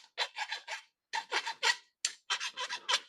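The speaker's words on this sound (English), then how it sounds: "We're going to stick the end of the file in there on this side and just rotate it around." A hand file rasps against the cut end of a fuel line, working it flat and deburring it in short rhythmic strokes grouped into three bursts with brief pauses, close and fairly quiet with no voices.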